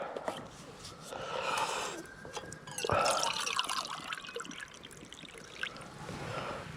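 Water pours and trickles into a Trangia camping pan, a soft, faint splashing that runs for several seconds with small drips.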